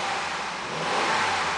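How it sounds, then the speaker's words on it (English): A 2008 Honda CR-V EX engine runs with a steady, broad roar that swells slightly as it revs, close and continuous with no talking. "The car is running right now. I'm going to rev it"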